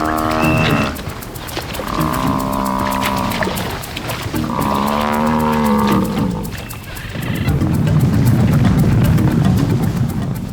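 A buffalo herd lows with deep, drawn-out calls on marshy ground while lions hunt, loud and close, with heavy rumbling growls and trampling noise rising toward the end.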